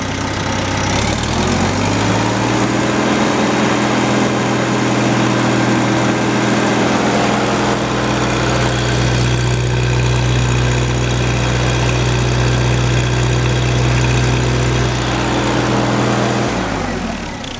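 An Allis-Chalmers tractor engine fitted with a Nelson muffler idles low, then rises to a steady full-throttle drone that holds for a long stretch before dropping back, close and loud.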